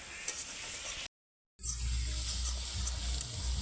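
Spice paste being fried and stirred in a pan of oil for a tilapia curry, a steady close sizzle with a brief silent gap partway through.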